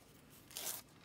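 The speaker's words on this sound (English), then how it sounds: "So I'll just peel the paper off the back" Paper backing is peeled off fusible web during quilting for a bench pillow, giving one short, soft tearing rip of about a quarter second, close up and quiet, with no talking.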